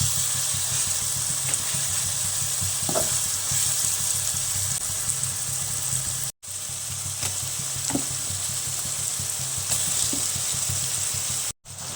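Onions and tomato frying in oil in a pan for a Kerala-style prawn biryani, giving a continuous close sizzle with occasional stirring scrapes and brief gaps, no talking.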